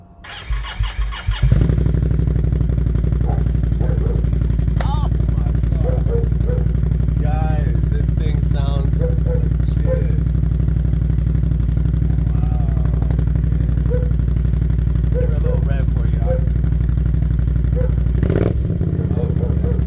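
An ATV engine fitted with an aftermarket RJWC Mud Edition exhaust cranks and catches, then idles steadily and loudly up close with a deep, throaty exhaust rumble for a long stretch, a few revs near the end.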